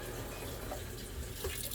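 Water runs steadily from a tap at a fishing camp sink, a soft continuous wash with faint splashes, fairly quiet and heard alone without talk.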